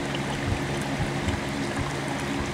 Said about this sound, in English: So much HHO coming out, you can see the 1 gallon bubbler moving